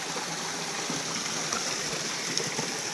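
Steady rushing of flowing water, like a stream running over rocks, continuous and fairly close, with no voices present.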